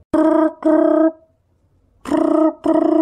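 A phone ringing in two double bursts of a bright electronic tone with a pause between them, loud and close, with no talk over it, as a village headman places a call to the police.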